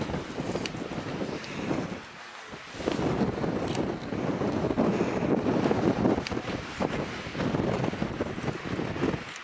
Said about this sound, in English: It's very windy and I don't want it to blow over